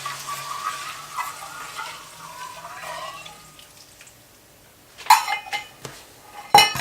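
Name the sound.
stirring coconut milk poured into a wok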